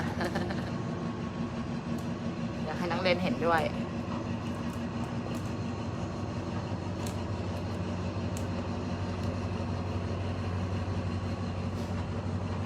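A steady, rumbling train noise rolls on throughout as a train approaches in Hua Hin, Thailand, with someone talking over it near the start.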